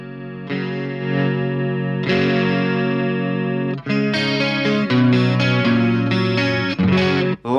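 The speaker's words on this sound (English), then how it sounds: "So this guitar has a Duncan distortion and Area 58 DiMarzio." Electric guitar with a Seymour Duncan Distortion humbucker through a distortion and chorus rig and an ENGL Ravager cabinet impulse, playing sustained 80s-metal chords that shimmer and ring, then shift into a series of quicker, punchy chord changes, loud and alone.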